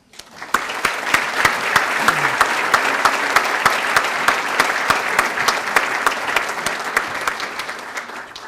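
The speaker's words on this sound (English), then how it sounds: "Your applause, please, for the Double T Health Service Corporation" Applause at the Cornucopia 2015 awards event for Double T Health Service Corporation, a full, sustained round of clapping from a sizable audience with sharp individual claps standing out, tapering slightly at the end.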